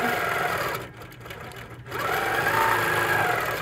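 A quilting machine stitches free-motion doodle quilting with a steady, fast mechanical hum. It slows and pauses briefly partway through, then speeds back up and keeps running close by.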